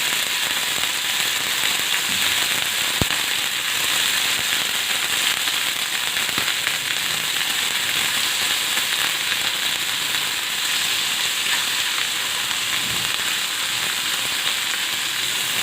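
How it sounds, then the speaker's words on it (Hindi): Chicken pieces fry in oil in a pan, giving a steady, dense sizzle with scattered crackles and pops that runs unbroken and fairly loud, with no talking. "इन पीसेस को अच्छी तरह से हम इसमें फ्राई करेंगे जी।"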